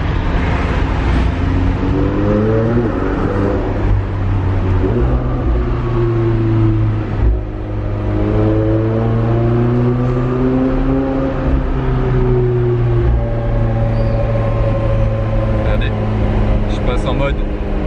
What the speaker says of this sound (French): On va essayer de faire un petit peu résonner la voiture.